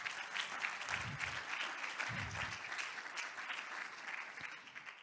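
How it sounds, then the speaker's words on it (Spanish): An audience applauds panelists at an ecommerce conference in Alicante, a continuous, fairly distant rush of clapping that fades slightly toward the end, with a couple of low thumps along the way. "un fuerte aplauso para todos ellos"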